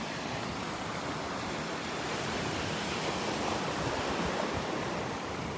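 Surf washing onto a wide, open beach at Tigertail Beach, a steady broadband roar of waves holding constant throughout with no voices.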